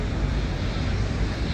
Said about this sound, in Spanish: Algunos aviones pasan súper bajito